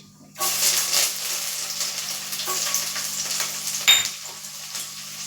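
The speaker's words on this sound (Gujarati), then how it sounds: "અહીંયા મેં છથી સાત કળી લસણ છે તે સમારેલું છે તે એડ કરીશ" Curry leaves and chopped garlic go into hot oil for palak sabji and set off a sudden loud sizzle that carries on as steady close frying, with a brief stir flare near the end.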